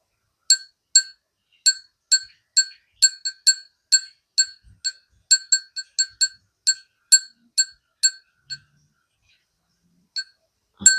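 A small bright bell tinkles in quick, irregular strokes as a crystal inside moves, clear and close, pausing near the end before a final faint ring and a soft rustle.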